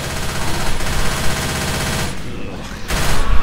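Gunfire in Left 4 Dead 2, rapid continuous bursts of automatic shooting filling the whole stretch, dense and loud with a brief lull near the end before firing resumes.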